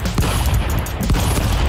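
Gunfire in the video game Stick Fight, a dense, noisy run of rapid shots with sharp bursts near the start and again about a second later, loud and continuous.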